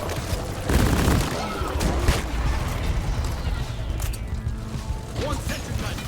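Sentry gun in Deep Rock Galactic firing during a solo Hazard 5 mission, a dense rattling burst of rapid shots mixed with game booms and mechanical noise, with a voice speaking over parts of it.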